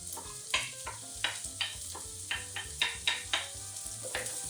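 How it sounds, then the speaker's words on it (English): Chopped onions in olive oil in a pan, with a steady sizzle and repeated clinks and scrapes of stirring. Quiet music plays underneath, and nobody speaks. "she starts by adding some olive oil in a pan and adding some chopped onions"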